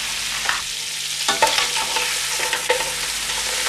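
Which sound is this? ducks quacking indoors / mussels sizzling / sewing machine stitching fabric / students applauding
mussels sizzling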